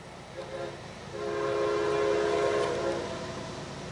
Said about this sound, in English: Here comes another train. Northbound by Micro, CXX.